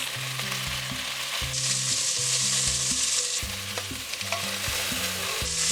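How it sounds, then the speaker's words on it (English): Beef searing in an Overmont Dutch oven sizzles loudly and steadily throughout, a dense crackling hiss under a steady background music bed, with no talking. "First, we're searing our beef."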